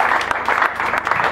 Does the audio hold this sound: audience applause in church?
yes